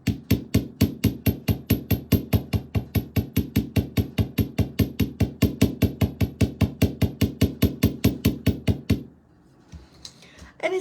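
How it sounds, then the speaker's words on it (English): Rapid, steady hammering on metal jewelry findings with the ball peen side of a hammer, about forty close, even taps in a regular rhythm, then stopping for a quiet stretch. "let's see how we like it if we also hammer it with the ball peen side of the hammer."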